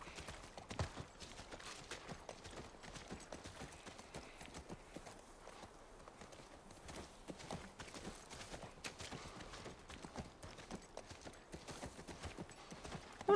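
Horse hooves clip-clop steadily in The Last of Us Part II, a continuous, even rhythm of soft hoof strikes at a moderate level, lasting throughout with no talk.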